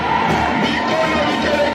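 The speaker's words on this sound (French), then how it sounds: "C'est sous un tonnerre d'applaudissements dans un bâtiment du 30 juin plein à craquer" A packed hall of party cadres and activists cheers and shouts continuously as the national party president enters a political rally, a loud, sustained crowd roar.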